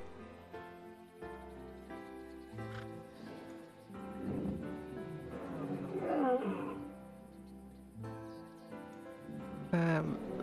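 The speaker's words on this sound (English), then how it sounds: "That was a giraffe, actually." A giraffe call in the video game Primal Earth, deep rumbling roar-like growls repeated over several seconds, loud and close over a tonal game soundtrack.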